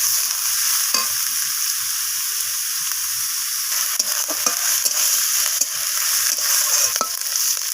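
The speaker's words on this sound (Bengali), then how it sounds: "পেঁয়াজ কলিটাকে আমি পেঁয়াজের সাথে এইভাবে নাড়াচাড়া করে একটু ভাজা করে নিচ্ছি।" A steady, close sizzle of onion greens and onion stir-frying in a hot pan, with soft scraping stirs breaking through now and then.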